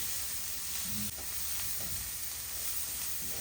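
Chopped garlic frying in a soup pot for chicken clear soup, a soft, continuous sizzle and hiss with a few faint stirring taps, quiet and without voices.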